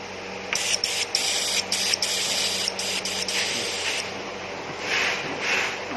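A compressed-air pressure sprayer for spraying pesticide, being checked for leaks, gives off a steady close-up hiss broken by several short, sharper bursts as the valve is adjusted, with no talk.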